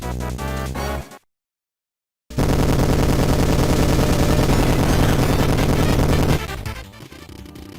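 Rapid blasts from the left wing being destroyed in Kirby Super Star Ultra, a dense loud barrage of booms and crackles after a short silence, then tapering off.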